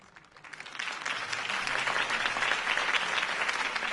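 Crowd applause in the Batman Telltale video game, rising from a soft start into a sustained, dense ovation after a campaign speech, with no voices over it.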